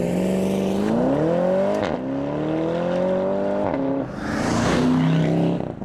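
A 2020 Porsche Panamera GTS Sport Turismo accelerates hard, its engine note rising loud and close through several gears with brief dips at each shift.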